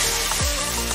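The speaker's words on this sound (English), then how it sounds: "Look at that baby sizzle!" Food dipped in egg and flour sizzles steadily in hot frying oil, a dense continuous crackle close up with no speech, with a brief low thump partway through.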